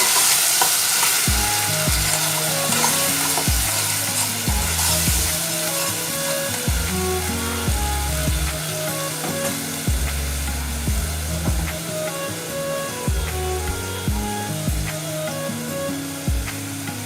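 Spices and onion paste fry in a pan for beef kofta curry, a constant loud sizzle broken by repeated scraping and clanking of a spoon stirring, with no talking.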